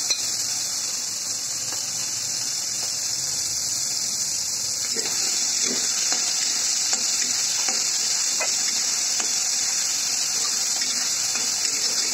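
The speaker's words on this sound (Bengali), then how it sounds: "এখানে আমি মাছের মাথাগুলোতে লবণ, হলুদের গুঁড়া, মরিচের গুঁড়া মাখিয়ে নিয়েছি। গরম তেলে ভেজে নিচ্ছি।" Fish heads coated in salt, turmeric and chili powder fry in hot oil with a loud, continuous hiss close by, joined by soft stirring taps and bubbling throughout.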